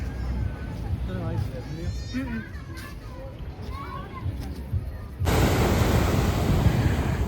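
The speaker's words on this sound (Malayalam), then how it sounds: "എനിക്ക് എപ്പോൾ കടലിൽ വന്നാലും കടൽ ഒരു അത്ഭുതമായിട്ട് തോന്നും എന്തോ ഒരു വലിയ അത്ഭുതം ഈ തിര വരുന്ന അത്ഭുതം" Sea waves break on a beach at night, a continuous rushing surf with wind buffeting the microphone that swells louder toward the end, while adults and children talk nearby.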